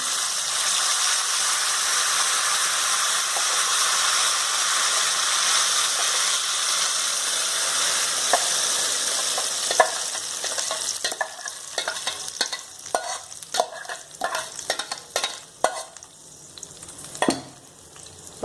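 Ground radish paste added to a pan of popped mustard seeds for radish thokku, a loud steady sizzle that gives way to uneven stirring scrapes and clicks of a spoon against the pan.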